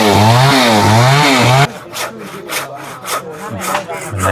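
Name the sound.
sawing wood on an old house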